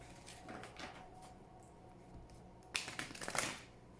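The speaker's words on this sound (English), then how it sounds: "Please think of your question as I shuffle the cards." Oracle cards shuffled by hand, with a faint soft riffle early on and then a louder burst of rapid papery flicks near the end, no talking.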